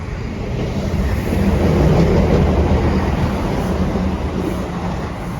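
A train rumbles past a station platform, a steady loud clatter of wagons that swells and holds for several seconds, heard up close with no talk.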